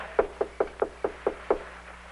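Seven sharp knocks rap on a door in a steady, evenly spaced rhythm, close and distinct against a quiet room with a faint low hum underneath.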